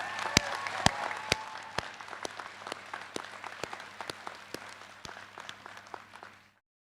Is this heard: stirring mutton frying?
no